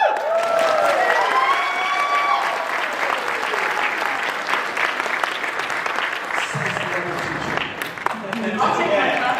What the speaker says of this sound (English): Can we get a clap?